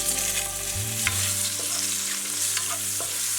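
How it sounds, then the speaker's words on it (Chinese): Shiitake mushrooms stir-fried in cooking oil in a wok, a steady close sizzle and crackle of frying with a few scrapes of stirring, continuous and fairly loud throughout. "锅中倒点食用油，把香菇倒入锅中，"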